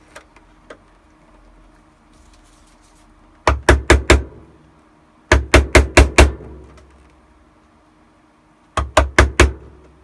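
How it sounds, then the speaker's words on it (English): Hammer blows pounding the ends of a split rivet flat against a washer, in three bursts of four or five sharp, loud, evenly spaced strikes, with quiet pauses between the bursts. "pounding on the ends of the split rivet to get it to lay flat against the washer"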